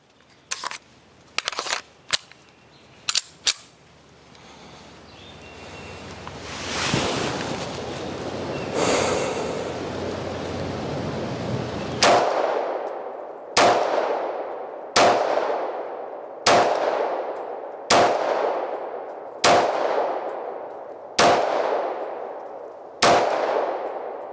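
A Sig P229 pistol at an outdoor range fires about ten loud, close shots at an even pace of roughly one every second and a half, after a few sharp handling clicks and a quieter stretch of low rumble.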